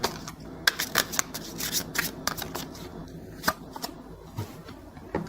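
Tarot cards being shuffled and drawn during a reading, a close run of riffling slaps and flicks with scattered sharper snaps, fairly soft, no talk.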